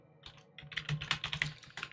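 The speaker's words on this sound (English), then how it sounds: "So you'll just see me typing it in here on the side for the sake of it appearing on the layout here" Fingers type on a computer keyboard at close range, a quick run of light clicking key presses that speeds up into a dense burst, with no speech.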